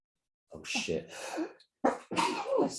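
A sneeze bursts out, followed moments later by a second sharp exhalation, close and loud against silence.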